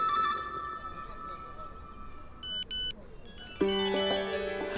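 A phone message notification tone confirming a bank deposit sounds as a short, bright electronic chime near the end, after a couple of brief beeps over a quiet room.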